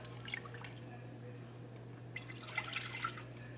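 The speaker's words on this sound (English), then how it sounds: "We're going to add about a half a cup of water into each pot." Water poured from a cup into a pot on a stovetop, two short splashing bursts with a pause between them over a low steady hum.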